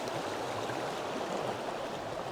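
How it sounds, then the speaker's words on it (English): Fast, turbulent river water rushes continuously in a loud, dense roar at close range, a steady broadband wash with no pauses and no voices. "I know it's quite loud here, so I'm going to move out the way of this water. It's running so quickly."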